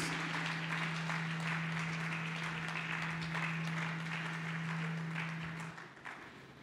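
Church congregation applauding during a healing service, a dense continuous clatter of many hands over a steady low electrical hum, holding evenly before tapering off near the end.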